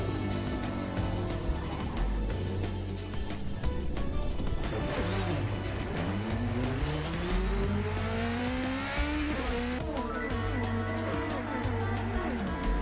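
Prototype race cars at Spa-Francorchamps in a sim racing game roar through Raidillon and over the crest, engines rising and shifting in pitch as several cars pass in a continuous loud drone.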